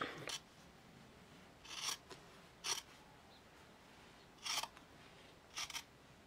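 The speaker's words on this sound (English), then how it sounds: "I'm going to trim back these under layers so that I can just tuck the outer fabric around it" Scissors trim back the under layers of fabric for a Victorian walking skirt, five quiet, close snipping bursts spaced irregularly against near silence, with no talk.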